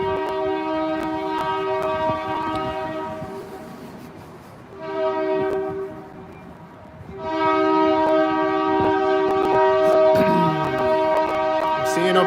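A train horn blows loud, sustained blasts near a street intersection: a long call, a dip, a shorter blast, then a long strong one, with rail noise and occasional voices underneath.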